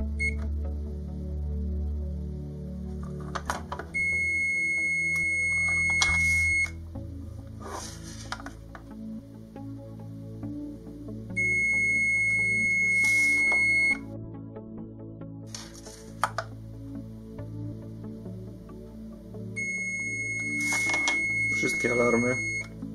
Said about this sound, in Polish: No i teraz alarmy.